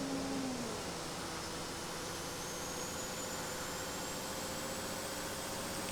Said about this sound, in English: The engine can speed up.